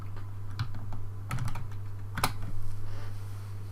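A handful of computer keyboard keystrokes typing a MATLAB command, sparse clicks in small clusters over a steady low electrical hum, no talking.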